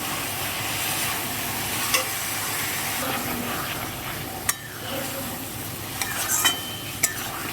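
Mutton keema fries in a pan as spice paste is stirred in, a constant low sizzle with occasional sharp clinks and scrapes of the spoon against the pan, close and without talk.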